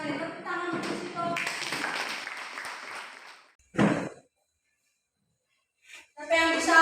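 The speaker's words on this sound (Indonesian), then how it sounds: "tepuk tangan untuk sitok" Students in a classroom applaud after a group presentation, a burst of clapping that fades out, followed by a short second flurry of claps and another brief round at the end, with short pauses of silence between.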